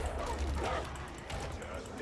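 Snarling, yipping dog enemies from the video game Darktide, a dense two-second burst of game combat noise with barks and whimpers over a rumbling low mix, with a voice mixed in.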